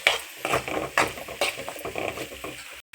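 Finely chopped potato tossed and stirred in a pan for a spicy rajma curry, giving close, irregular scraping and clicking stirs with a light sizzle, a brief silent gap near the end.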